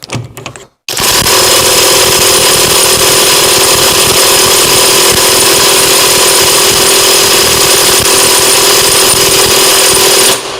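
KAMOLEE DTW500 cordless impact wrench at maximum speed: a short burst, then a loud, steady, continuous mechanical whir and rattle that runs close and unbroken for about ten seconds, with no talk.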